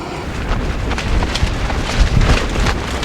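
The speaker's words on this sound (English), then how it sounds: "That wind is just ferocious." Strong wind roars at a clear-cut campsite in Northern Ontario, a loud, rough broadband rush that surges in gusts and buffets close to the microphone.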